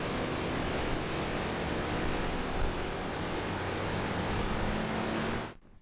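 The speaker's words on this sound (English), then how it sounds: "So, I hit the throttle pretty hard there." A turbocharged car engine pulls under hard throttle, a dense, steady roar that holds evenly for several seconds before cutting off abruptly at the end.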